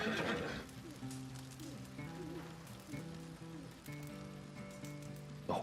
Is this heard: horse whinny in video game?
yes